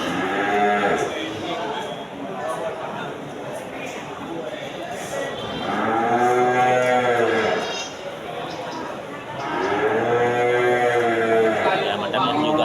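Breeding cows with female calves moo in two long, low calls, clearly audible but mixed with someone talking throughout.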